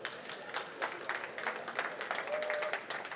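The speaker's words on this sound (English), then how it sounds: "so please give him a big round of applause." Applause from an audience at a trade-fair panel on plastic pollution, a short burst of scattered hand claps of moderate loudness with a faint tone and light background chatter.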